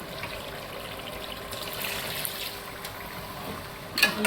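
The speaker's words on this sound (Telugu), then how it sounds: "ఇప్పుడు దీంట్లో వాటర్ పోసుకోవాలండి పెద్ద బాయిలర్ కాబట్టి వాటర్ పోస్తేనే చక్క కూర ఉడుకుద్దండి" Water trickles and pours into a large pot of chicken curry, a steady soft wash at moderate distance, briefly louder near the end.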